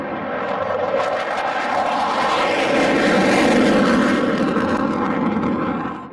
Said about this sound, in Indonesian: Di sini ada pesawat jet tempur.